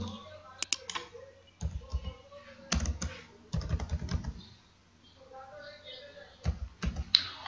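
Someone types an OTP on a computer keyboard, producing scattered clusters of sharp clicks and taps at close range. Someone talks softly over the typing.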